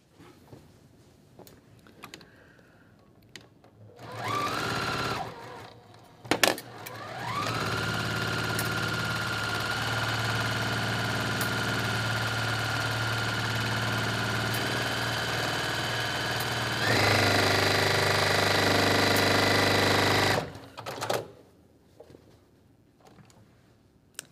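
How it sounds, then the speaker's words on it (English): Sewing machine stitching across a quilt block, running steadily in two long bursts of about twelve and four seconds, loud and close with a steady motor hum, short quiet pauses before and after. "Okay, now I'm gonna sew across."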